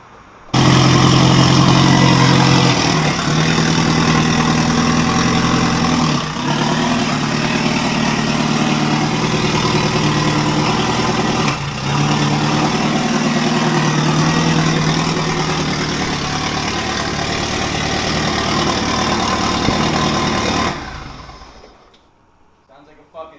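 A lumpy, loping bridgeported rotary engine idle runs steadily for about twenty seconds, loud and close, then cuts off abruptly near the end.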